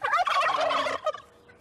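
Wild turkeys give a loud, close, rapid rattling gobble that lasts about a second, then trails off into fainter calls, with no talking.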